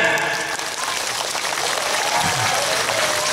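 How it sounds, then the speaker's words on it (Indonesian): Audience at a village cooperation event breaks into sustained, lively applause, a dense continuous clatter of many hands at an even level throughout. "Kita berikan tepuk tangan yang meriah dulu."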